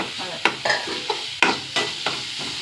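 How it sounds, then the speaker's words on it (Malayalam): Grated fresh coconut roasting in hot oil in a pan, a steady crackling sizzle broken by several sharp scraping stirs at irregular intervals, close and fairly loud with no talking. "ഞാൻ നന്നായി വറക്കട്ടെ അതാ നന്നായി ഒന്ന് വറക്കട്ടെ കേട്ടോ"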